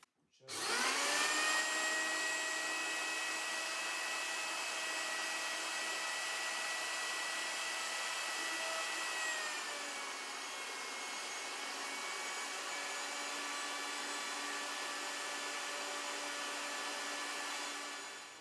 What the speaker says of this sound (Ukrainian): І так ми більшу частину цукру перемололи